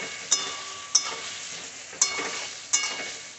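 Bottle gourd with salt and turmeric being stirred in a pan, a spoon clinking sharply against the pan four times at uneven intervals over a soft, steady sizzle.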